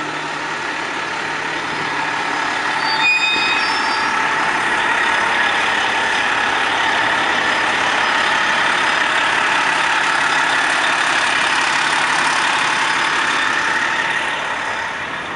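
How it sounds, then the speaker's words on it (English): An MCI coach moves through city traffic in Montreal, a steady broadband rumble of engines and road noise holding level throughout, with a brief high squeal near the start. "It's all the traffic."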